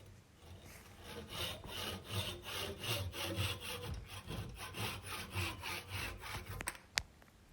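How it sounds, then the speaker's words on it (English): A hand saw cuts through a wooden dowel rod in quiet, rhythmic back-and-forth strokes, about a dozen even rasping passes, ending with a sharp click as the piece comes free. "Then grab your saw and just cut right through it"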